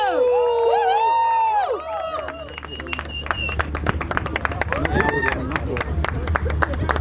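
Sparse, uneven clapping from a small audience welcomes a TV serial's villain at a grand launch event, rising under music and lively voices after an opening burst of tonal melody.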